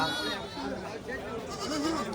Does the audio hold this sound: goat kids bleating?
yes